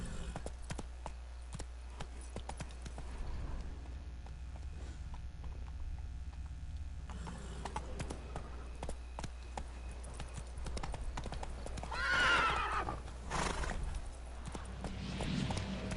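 Hooves of the horse Roach clip-clop steadily through The Witcher 3: Wild Hunt at a moderate, continuous pace, with a brighter burst of sound near the middle; no clear neigh stands out.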